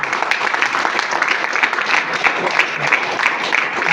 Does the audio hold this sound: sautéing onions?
no